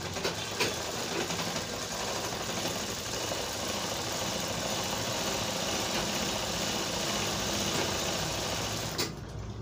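A sewing machine runs steadily for nearly ten seconds while stitching a sherwani, a continuous close mechanical whir with a buzzing rattle throughout, stopping just at the end.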